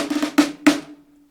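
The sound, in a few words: snare drum playing a simple one-beat phrase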